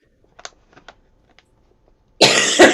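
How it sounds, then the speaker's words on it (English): A harsh, close chronic cough breaks out as a quick double burst after a stretch of near-silence dotted with faint small clicks. "I have a chronic cough."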